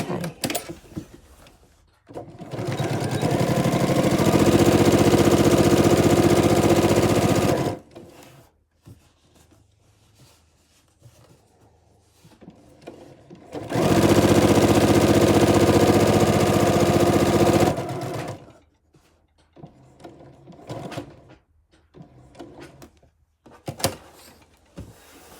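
Sewing machine stitching a kawandi quilt coverlet in two sustained, steady whirring runs, each several seconds long. Between them are quiet gaps with small handling clicks and shuffles nearby.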